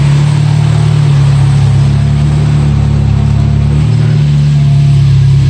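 Engine of a 1981 VW Scirocco S with CIS fuel injection idling, a steady, even, loud low hum recorded up close, with no talking.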